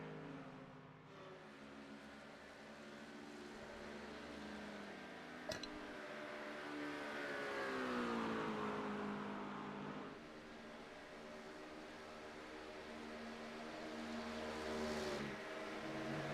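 Race cars circle the Daytona track in a USRA season finale, engines droning and rising steadily as they pass at mid distance, with one sharp click partway through.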